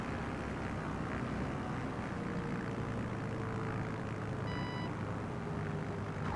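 Steady, unbroken propeller drone of a light aircraft on approach to landing in a flight simulator game, wheels down over trees on a Norwegian bush flight, holding a constant engine hum throughout with a brief faint beeping near the end.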